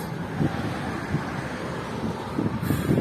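Wind buffets the microphone during a bicycle tour of Turkey in stormy weather, a steady low rumble with gusty swells and brief thumps, and no voices.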